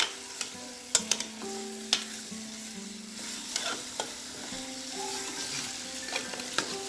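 Beef nihari frying in spice masala as a spoon stirs it, a constant sizzle broken by repeated scrapes and metallic knocks against the pot, close and without talk.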